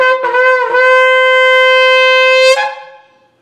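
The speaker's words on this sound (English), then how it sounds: "This is the coronation shofar. This is a more jubilant sound." A ceremonial coronation shofar blast: one long, loud, steady horn tone with rich harmonics that rises slightly after a short start, holds for about two seconds, then fades out.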